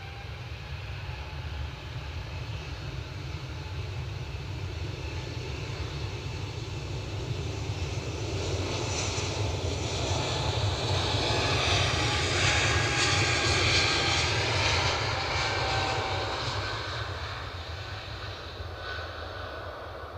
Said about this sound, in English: Should get a bit of this, ready to climb on those Embraers. So it proved. Well done, KLM.